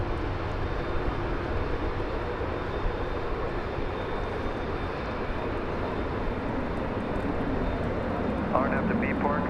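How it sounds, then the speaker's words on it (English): A UPS Airbus A300 cargo jet takes off at DFW Airport at night, a steady broad distant roar rumbling throughout while a voice talks over it. "I think we've got the UPS A300 getting lined up to take off."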